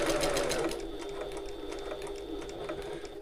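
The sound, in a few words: sewing machine stitching across a bag's turning gap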